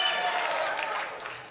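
A French television studio audience claps in a dense, steady burst of applause that fades slightly toward the end, with no speech over it.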